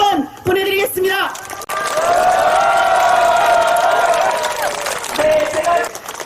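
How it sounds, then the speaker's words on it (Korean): A crowd at an outdoor press-conference rally breaks into sustained applause and cheering for a delegation, loud and continuous for a few seconds, with a voice over a speaker system before and after. "그리고 대표단께 큰 박수 한번 보내드리겠습니다."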